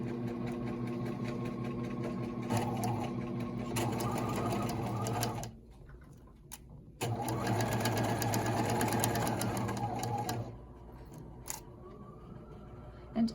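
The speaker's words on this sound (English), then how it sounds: "you're going to sew the same way, the edge of the foot to the edge of the fabric" A sewing machine stitches along the edges of fabric for a mini wallet with wristlet, running in steady bursts with brief pauses between runs, close and clear with no talking.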